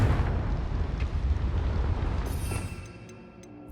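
Confringo fire spell blast in Hogwarts Legacy: a loud, rumbling explosion roars continuously, then fades with a crackling tail as the low boom dies away near the end.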